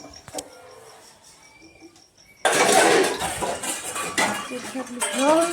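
Pots, pans and utensils clatter and clank as someone washes dishes at home. The sound starts quiet, then turns into a loud, busy run of scraping and knocking metal from about halfway through.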